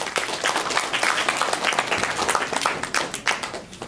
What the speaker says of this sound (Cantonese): 掌聲有請